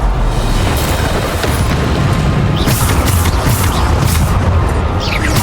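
Bombarda blast spell going off in the video game Hogwarts Legacy, a loud, dense roar of rumbling noise that holds steady throughout with faint crackles on top.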